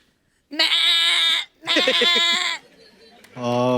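A person imitates a goat, giving three loud, nasal, wavering bleats in quick succession, close and clear, with short pauses between them.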